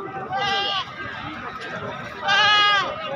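Goats bleat at a busy goat market, two loud, wavering calls close by with a short gap between them, over a background of crowd noise.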